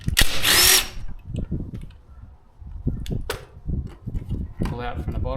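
A power tool spins a 5mm hex bit on a motorcycle seat bolt of a 2018 Suzuki GSX-S750, with one sharp whirring burst near the start followed by softer clicks and handling noises close by.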